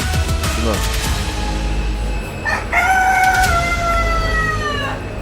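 Chickens cluck and a rooster crows loudly and close at a street poultry shop in Tangier, with several long crows dominating the second half amid bustling background noise.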